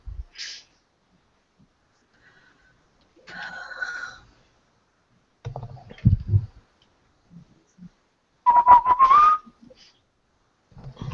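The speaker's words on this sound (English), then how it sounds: "Whistling is probably the worst thing I could do." A person whistles in short, scattered bursts with long quiet gaps, including one rising, wavering whistled note near the end, close and fairly clear, mixed with breathy snorts and small clicks.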